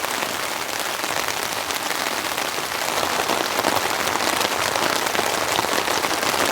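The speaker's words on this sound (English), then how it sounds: "The rain's getting heavier." Heavy winter-storm rain drums densely and evenly on a close tent surface, a bright continuous patter that grows slightly stronger partway through.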